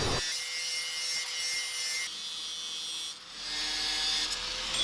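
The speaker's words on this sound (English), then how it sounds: "I gotta grind this all clean, or it's not gonna fuse" Steel pieces being ground clean on a power grinder before a Damascus forge weld: a continuous harsh hiss and whine with brief dips as the grinder leaves the metal, loud and near.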